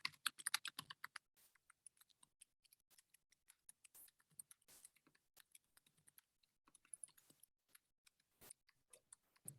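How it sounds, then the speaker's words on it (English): Quiet, irregular clicking of fingers typing on a computer keyboard, in quick bursts with short pauses, close by and with no talking. "I am almost done typing this."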